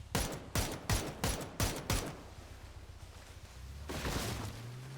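A rapid series of sharp gunshots in PUBG on the snowy Vikendi map fires in quick bursts for about two seconds, followed by quieter background rumble and a faint later shot or two.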